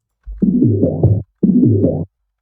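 Two short bursts of a drum fill, each about a second long with a gap between, the tone shifting as a filter sweeps across it.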